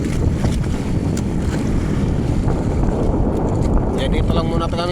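Heavy seas slap against a small boat out at sea in rough low-pressure weather, a constant roar of wind and surf buffeting the microphone, with a faint voice near the end.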